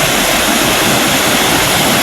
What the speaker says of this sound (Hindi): पानी एनीकट के ऊपर से बहने लगा